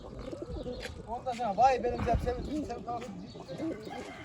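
Pigeons in a coop coo softly and repeatedly nearby, with scattered chirps and rustling, while a person talks quietly underneath.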